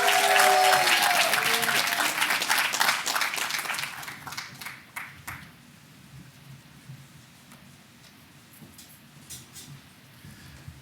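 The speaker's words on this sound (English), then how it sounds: "Let's give him a hand of applause." Graduation ceremony audience breaks into loud, dense applause that fades over several seconds into scattered claps and faint room noise.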